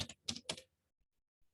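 A handful of quick computer keyboard keystrokes while entering an IP address, close and crisp, followed by near silence.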